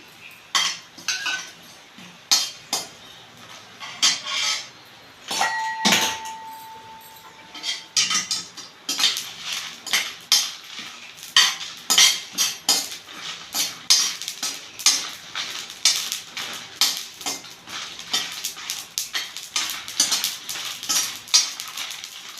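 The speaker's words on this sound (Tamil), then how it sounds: "இரும் பாத்திரத்தில் தான் வறுக்கணும் எண்ணெய் ஊற்றக்கூடாது ஜீரகம் சேர்த்துக்கும்" Cumin seeds dry roasting in an iron pan with no oil, stirred with a utensil, giving a run of close, irregular scraping and clinking strokes that grow busier and denser over time.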